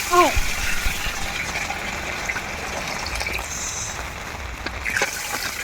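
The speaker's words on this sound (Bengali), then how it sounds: "পরিমাণ মতো পানি দিয়ে দেবো এখন" Water poured into a cooking pot of chicken with cumin, turmeric, chicken masala and bay leaves for Arabian kabsa, a steady close gush of liquid with talk over it.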